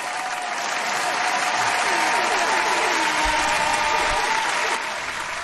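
A crowd cheering and applause sound effect on a live podcast show, a loud, continuous roar of clapping and cheers that holds steady for over five seconds with faint tonal sweeps mixed in.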